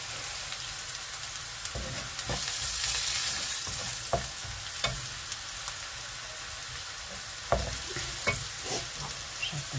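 Turmeric, chili, cumin and coriander frying in a pan for red lentil dal with okra, a steady sizzle broken by repeated spatula scrapes and taps as the spices are stirred.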